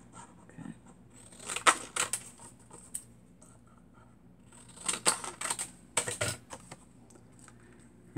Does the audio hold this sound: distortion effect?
no